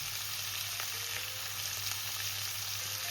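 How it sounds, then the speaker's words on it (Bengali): Pumpkin fries in a pan over a medium flame, giving a steady, even sizzle at close range with a few faint clicks, and no talking. "এবার এইভাবে মিডিয়াম ফ্লেমে আমি কুমড়োটাকে ভেজে নেবো লাল লাল করে ভাজবো"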